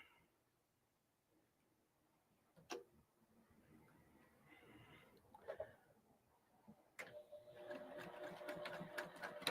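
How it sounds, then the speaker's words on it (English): A sewing machine stitches a reversible holiday-themed handbag, first with quiet scattered clicks, then a steady, fairly quiet, rapid mechanical ticking over the last few seconds, with light background sounds. "So now we're sewing."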